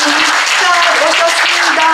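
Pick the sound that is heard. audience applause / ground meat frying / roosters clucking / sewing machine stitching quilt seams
audience applause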